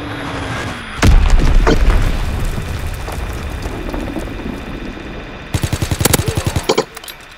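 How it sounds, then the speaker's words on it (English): A heavy enemy bomb explosion in Call of Duty WWII, with a loud boom and a long rumbling decay, followed later by a sharp, fast burst of close machine-gun fire. "Enemy bomb incoming."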